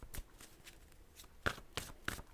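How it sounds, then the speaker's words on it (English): Tarot cards from a John Holland Psychic Tarot Deck being turned and handled, giving a handful of soft papery flicks and slaps spaced across a quiet room, close and faint. "So just here, turning some cards today."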